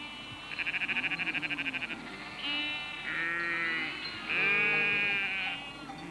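A flock of sheep being gathered in rural Portugal bleats in overlapping calls, several distinct wavering bleats one after another at moderate distance, with no talk.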